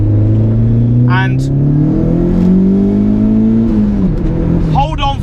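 A turbocharged 240 bhp Renault Clio 172 pulls hard in second gear on a B road, its engine note climbing steadily loud and close inside the cabin, with brief speech at the start and end.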